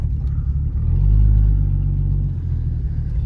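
A Fox Body Ford Zephyr with a fuel problem accelerates: a loud, low engine rumble swells and holds, then eases back slightly, with no talk over it.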